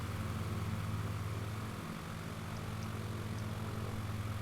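A Shock Ultra Cub bush plane in Microsoft Flight Simulator drones along with a steady propeller engine hum, deep and continuous, with a few faint higher tones briefly rising near the end.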